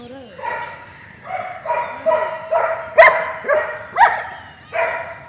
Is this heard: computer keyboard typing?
no